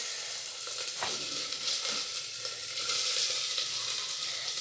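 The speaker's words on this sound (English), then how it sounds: "Now we are going to add curry leaves. Be careful while adding, it will pop. We are going to add onions." Onions and curry leaves frying in hot oil in a pan for paneer gravy, giving a steady close hiss with faint crackles and a soft stir, no talking.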